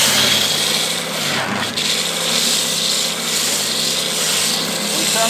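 A spindle sander runs without dust extraction, a steady mid-level motor hum with a gritty rasping rub of abrasive on wood, swelling and easing slightly as the workpiece is pressed against the spindle.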